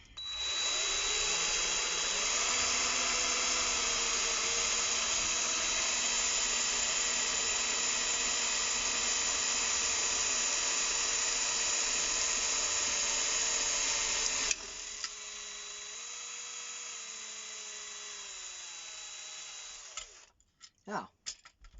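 A large Parkside power drill bores through a metal weight with a steady, loud whine that runs for about fifteen seconds, then drops to a lower pitch and stops, followed by a few scattered knocks.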